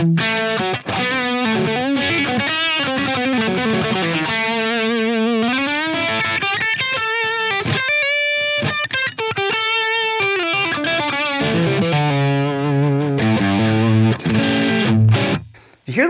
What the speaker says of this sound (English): let's add in the compressor at the end